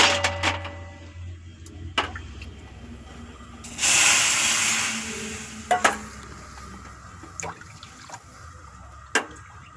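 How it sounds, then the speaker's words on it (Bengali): Hot water gushes into a wok (kadai) to boil eggs: a brief, hissing pour in the middle, surrounded by quiet kitchen clinks and taps. "তাহলে প্রথমে আমি জলটা দিয়ে দিচ্ছি কড়াই, ডিমগুলো সিদ্ধ করব।"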